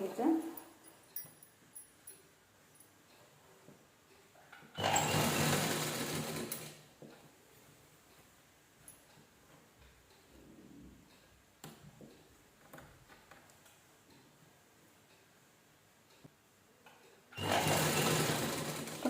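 An electric sewing machine stitches along saree fabric with a border strip, with two loud whirring runs, one near the middle and one at the end, separated by quieter handling of the cloth.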